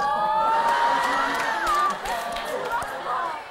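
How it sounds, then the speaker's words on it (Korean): Stadium-style crowd at a televised Korean team sports competition roars with cheers, whoops and shouts, a dense continuous wall of voices with rising yells, fairly loud and steady throughout. "함성이 들리는데요"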